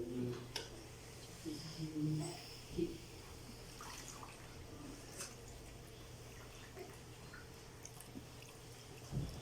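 Water splashes and drips as feet are washed during wudu ablution, a few irregular soft splashes early on over a quiet steady background, with faint voices.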